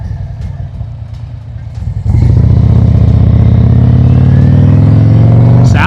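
A Harley motorcycle on a dyno, idling with a lumpy, uneven rumble before the throttle opens into a loud, sustained, steady roar that holds to the end.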